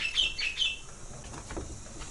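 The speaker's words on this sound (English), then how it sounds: "Listen to those birds." Faint, high bird chirps come in the first second, a few short tweets at a distance, over a low background hum.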